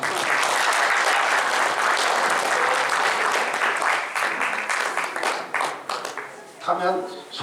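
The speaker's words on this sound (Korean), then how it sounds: "박수 한번 쳐주십시오." Applause from the audience at the 62nd regular general meeting of a Yeonbaek County residents' association, a dense sustained round of clapping that tapers off near the end as a voice begins.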